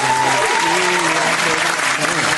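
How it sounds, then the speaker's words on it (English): Loud, steady crowd applause in a lively gathering, continuous for a couple of seconds with a tonal sound and voices mixed faintly underneath. "Let's get a lot of round of applause on that one."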